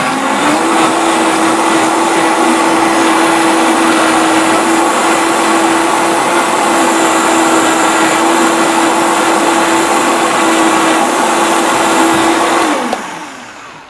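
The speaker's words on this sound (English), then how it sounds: "let's just blend this up and see how it goes" A Vitamix blender pureeing homemade ketchup, a loud, close, steady high whir holding one pitch for about thirteen seconds before cutting off abruptly.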